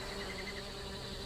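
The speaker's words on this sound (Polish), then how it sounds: "There are bees buzzing around all over the place and they're fighting the fire fairies for the nectar" Bees at a nest in The Book of Unwritten Tales game make a faint, steady insect drone with a soft high whine and no break.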